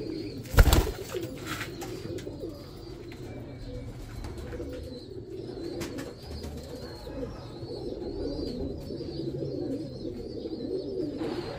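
Several Teddy pigeons, all male, coo steadily in a loft, a continuous layered murmur of soft throaty calls with a brief sharp knock near the start and low background noise throughout.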